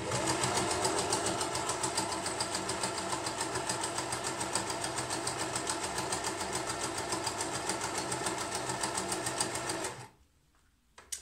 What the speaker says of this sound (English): let's see how this zigzag stitch comes out